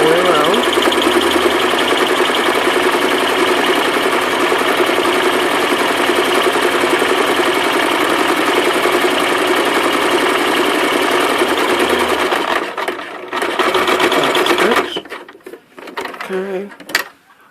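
A sewing machine runs steadily for about twelve seconds while top-stitching around a zipper pouch, then stutters in short bursts and stops, leaving quiet handling sounds.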